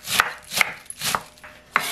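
A knife chops cabbage for sauerkraut on a board, about five crisp separate strokes at an uneven pace, close and clear with no talking.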